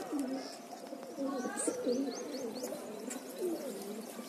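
Pigeons coo repeatedly in soft, throaty calls, several birds overlapping close by against a quiet background.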